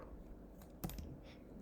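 Faint typing on a computer keyboard: a few soft, quiet keystroke clicks, one slightly louder tap, over a low room hush.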